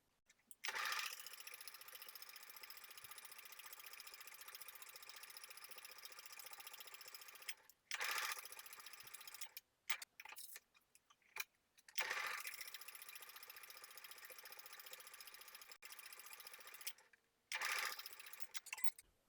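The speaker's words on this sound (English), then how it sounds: "Then we can baste those edges together within the seam allowance." A sewing machine basting the edges of a knit top within the seam allowance, steady whirring runs of stitching broken by brief pauses and a few clicks, close and consistent.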